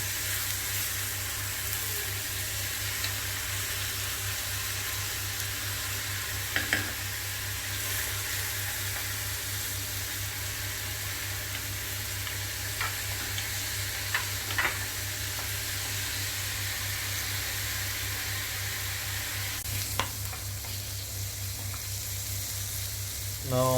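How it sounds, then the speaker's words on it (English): Grated onion and curry leaves fry in a pan for a fish curry, a constant even sizzle with a few faint scrapes of stirring scattered throughout. "Gently stir this grated onion"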